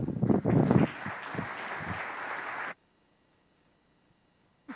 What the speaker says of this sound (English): Please join me with a round of applause to welcome a trailblazer in the field, Lori Bieda.